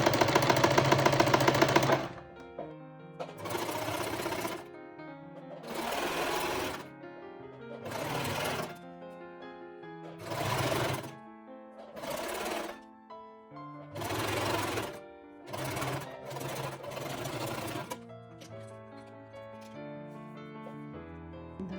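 A sewing machine stitches dress straps in repeated bursts of rapid mechanical whirring, each lasting about a second with short quiet pauses between, close and clear with no voices.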